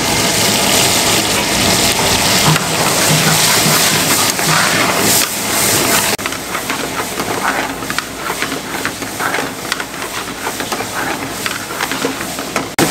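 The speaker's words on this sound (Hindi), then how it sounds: "ये जो चिकन हमने मैरिनेट किया था ये इसके अंदर शामिल कर दें और इसको अच्छे तरीके से फ्राई कर लें" Marinated chicken pieces frying in hot oil in a pan, a steady loud sizzle and hiss that continues throughout, slightly shifting in texture partway through.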